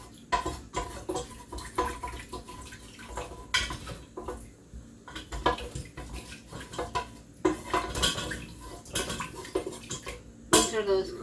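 A utensil scrapes and clanks against the bottom of a pan while leftover elbow noodles are gathered from a crockpot chicken soup, in irregular close metallic scrapes and knocks, with a sharp clang near the end.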